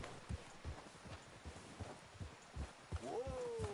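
Horse hooves clop in an irregular walking rhythm on open ground in a video game near a ridge and water tower, fairly quiet, ending with a rising horse whinny or snort.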